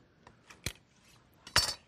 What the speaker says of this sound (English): now I'm going to cut the meat in pieces.